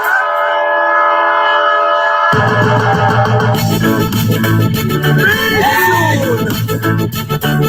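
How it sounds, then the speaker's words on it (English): A train horn blasts loudly as a celebration train arrives, a sustained chord-like tone followed by rhythmic rolling rail clatter mixed with music. "Number 60 has arrived. This is a celebration train."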